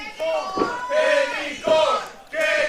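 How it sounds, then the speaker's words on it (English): A wrestling crowd at a Halloween Massacre pay-per-view event chants in loud rhythmic bursts, voices rising and falling in repeated phrases that fill the arena. "Crowd now chanting they want the candy corn"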